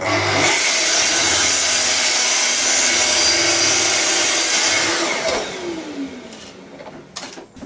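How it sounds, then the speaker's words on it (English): A saw trims a strip off a piece of scrap wood, a loud sustained broadband cutting whine lasting about five seconds that then winds down as the blade spins to a stop, with a few small knocks at the end. "let me trim off a strip of this piece of scrap I got lying around"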